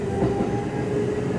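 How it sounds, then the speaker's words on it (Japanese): Steady rumble of a Kintetsu 2610 series rapid express train on the Osaka Line, a continuous low roar with faint rhythmic clatter, heard from inside the car. "この電車は松阪行き快速急行です。"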